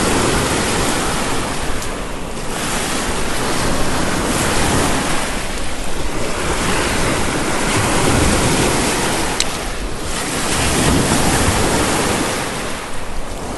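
Lake Superior waves wash steadily onto a rocky shore in Michigan's Eastern Upper Peninsula, a loud, continuous roar of surf with gentle swells and some wind buffeting the microphone, with no voices.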